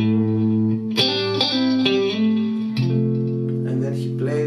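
Electric guitar playing a short lick, with distortion and chorus effects. Several picked notes are linked by hammer-ons and slides, sustaining bright and close with no talking.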